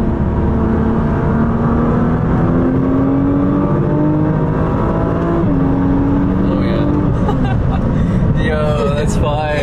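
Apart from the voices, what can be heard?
Nissan GT-R R35 accelerating on wet road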